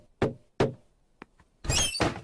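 Cartoon attic door in a house being opened: two solid knocking thumps and a small tap, then a longer, louder rushing scrape as the door swings open, with no talking.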